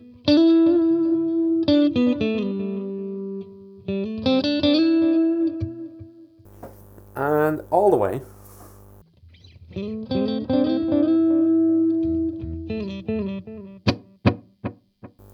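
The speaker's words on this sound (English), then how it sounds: "so you can hear it's a nice delay as well" Guitar notes run through the delay section of a Boss Nextone amplifier, each phrase trailing off in repeating echoes, with a brief warbling pitch-bent section in the middle.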